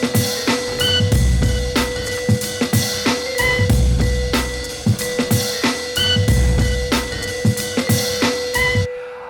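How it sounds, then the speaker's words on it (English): A cement mixer churns during garden work next door: a steady drum hum with repeated rhythmic thumps and clattering as the load tumbles, fairly loud and continuous, with no voices over it. "They're doing a bit of garden work next door and they got the cement mix on the go"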